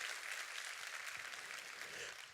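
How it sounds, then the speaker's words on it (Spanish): A church congregation applauds in a steady, fairly soft wash of clapping that carries on evenly from start to finish. "Yo creo que ese aplauso tiene que ser más fuerte todavía"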